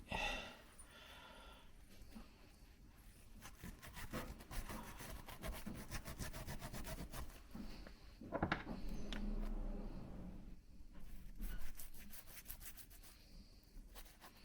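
Someone scrubs rust and green corrosion off a vintage coffee grinder, with continuous close rasping strokes in a steady back-and-forth rhythm, occasionally swelling louder, with small knocks between strokes.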